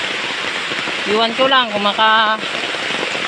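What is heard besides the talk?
heavy rain during typhoon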